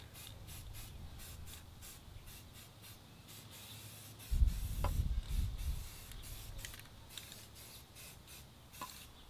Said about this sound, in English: These spray cans are a nice, convenient, easy way and quick way to paint a piece of furniture